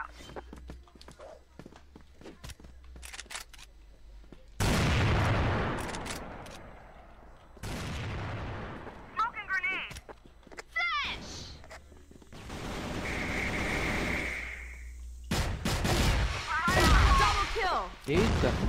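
Bursts of video game gunfire crack out between stretches of movement and clatter, with a few sharp shots and louder blasts scattered across the scene.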